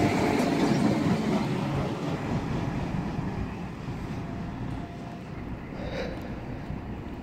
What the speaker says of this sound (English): London Midland service to Dorridge from Mustafa Street.